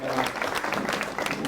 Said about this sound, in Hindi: जोरदार तालियां अनीश के लिए।